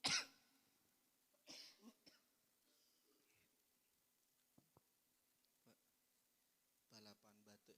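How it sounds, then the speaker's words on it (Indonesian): A loud cough bursts out at the start during a coughing contest at an evening religious gathering, followed by quieter throat sounds and clicks, then another round of coughing near the end, with little else around. "balapan batuk, lomba ini."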